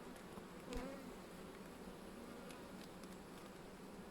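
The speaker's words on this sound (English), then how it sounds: "Oh, this is a lot of bees." A dense, steady hum of many bees buzzing together, fairly faint and constant, with one brief louder swell near the start.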